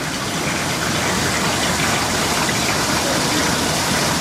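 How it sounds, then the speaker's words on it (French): Heavy rain falling during Cyclone Batsiraï, a dense, steady roar of downpour that stays loud and unbroken from start to finish, with no voices over it. "la pluie s'est intensifiée hein, par rapport à ce matin"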